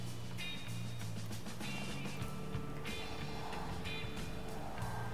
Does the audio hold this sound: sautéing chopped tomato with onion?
no